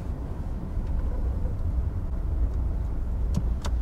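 Suzuki Vitara with a probable four-speed automatic driving on the road, a steady low engine and road rumble from inside the cabin, with a few faint ticks near the end.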